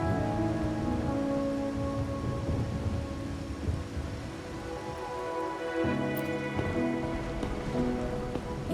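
Steady rain falls in the video game Wuthering Waves, a dense even hiss of drops on surfaces with low rumbling underneath, continuous for the whole stretch with no voices.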